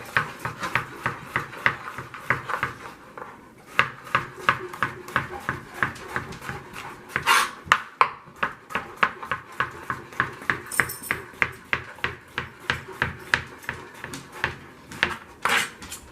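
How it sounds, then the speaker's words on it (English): A knife slices mushrooms on a cutting board for a vegetable galette, making steady, rapid taps close by, with one short pause partway through. "So I'm just going to slice these in half, and then we're just going to slice them."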